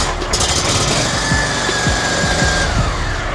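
An electronic fuel injection lawn mower without a choke runs right after starting, a loud close steady engine drone with rapid chugging pulses throughout.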